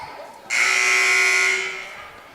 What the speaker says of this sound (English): The buzzer rings